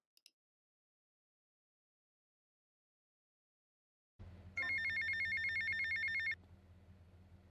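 A phone rings in the video game GTA Vice City after several seconds of silence, a loud electronic trilling ring lasting about two seconds over a low game hum.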